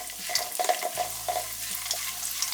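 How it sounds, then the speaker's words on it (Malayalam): Chopped cashews, almonds and pistachios sizzle steadily in a pan for a festive dry-fruit payasam, with repeated scraping stir strokes over the continuous frying hiss and no talking. "1/4 കപ്പ് അണ്ടിപ്പരിപ്പ് നുറുക്കിയത് ഇട്ട് കൊടുക്കാം. ഒന്ന് മൂപ്പിക്കാം."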